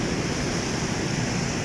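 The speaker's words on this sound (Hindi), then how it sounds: "देखो जी बहुत स्पीड वाला पानी है जी" Fast-flowing water rushing through a big canal, a loud, dense, unbroken roar close to the microphone with no voices.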